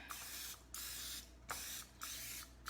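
Cooking spray hisses into an 8x8 baking dish in several close, loud bursts, each lasting about half a second, separated by short pauses.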